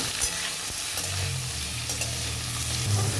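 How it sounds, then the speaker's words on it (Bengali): Eggplant pieces frying in a pan while being stirred, a steady close sizzle with soft utensil scrapes throughout and no talking. "এই দেখুন টুকরো টুকরো করে রাখা বেগুন, ভালো মতো নাড়াচাড়া করে নিচ্ছি।"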